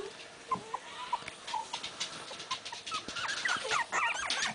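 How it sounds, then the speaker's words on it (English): Teddy Roosevelt Terrier puppies whimper and squeak in a litter, many thin high cries overlapping and growing busier toward the end, close under a noisy room background. "They're all whimpering for mommy"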